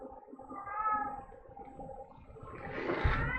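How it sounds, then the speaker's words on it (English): Outside a door, a lone male cat lets out a faint, drawn-out meow, followed by softer rustling, heard from a short distance in an otherwise quiet room. "Just by himself out there meowing."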